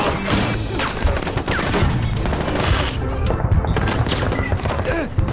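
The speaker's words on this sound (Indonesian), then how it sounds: "Kedua pasukan saling menembak." Heavy gunfire traded between two armed forces in a film battle, dense overlapping shots and bursts with crashes and booms, loud and continuous for the whole stretch.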